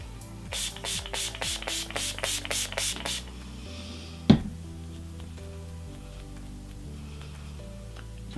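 About ten quick, rhythmic pumps of a makeup setting spray bottle hiss close by, followed by a quieter stretch with a single sharp knock.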